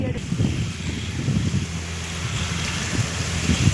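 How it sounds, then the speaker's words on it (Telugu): Strong gusting wind buffets the microphone outdoors, a loud low rumble that swells and eases over a few seconds, with faint background sounds and no clear speech. "గాలి అయితే విపరీతంగా వస్తుంది"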